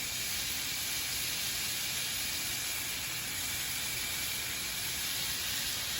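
Meat browning in a pan, seasoned with salt and pepper, gives a steady, dense sizzle that hisses evenly and without a break from start to finish, close and fairly loud, with no voices over it.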